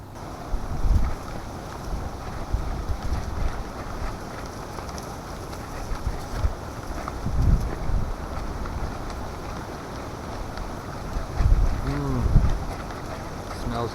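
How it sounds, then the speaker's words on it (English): Strong cold wind buffets a campsite, a steady roaring rush with heavy low gusts swelling around one, seven and twelve seconds, the kind of buffeting that hits a microphone hard. "Wind's picking up again."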